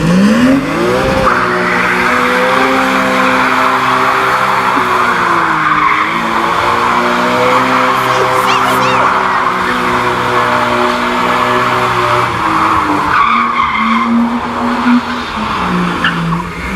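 A BMW M3 E36 drifts in a Need for Speed Shift competition event in London, its engine droning loudly and steadily while tires squeal and skid continuously, with pitch shifts as the car slides and revs.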